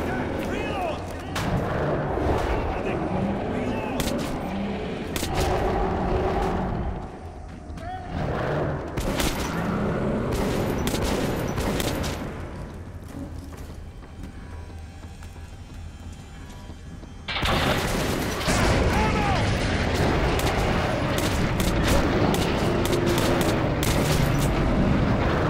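Gunfire and heavy booms from the video game Metro 2033 come in repeated loud bursts, with game voices mixed in among the shots.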